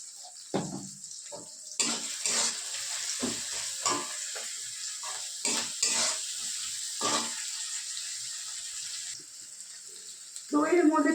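Onions with salt fry in oil for a fish-head curry, a loud continuous sizzle broken by repeated scraping stirs and clanks of a spatula.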